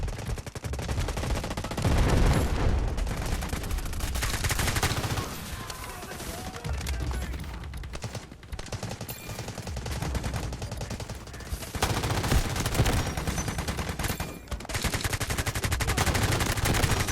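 Dense, continuous automatic gunfire and explosions in the Delta Force shooter game, loud and sustained with rapid bursts throughout and no talk.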